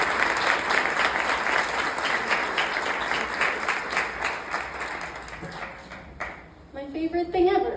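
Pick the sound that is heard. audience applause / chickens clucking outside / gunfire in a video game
audience applause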